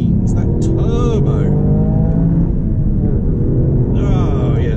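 A brand new Toyota GR Yaris accelerates hard, its turbo engine roaring loudly with a climbing pitch and whistles as it builds speed, heard from inside the car with voices over it.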